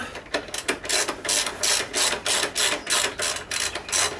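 A ratchet fitted with a 19mm socket works on the fork of a Yamaha MT-07, giving rapid, close clicking in rhythmic bursts as the handle swings back and forth.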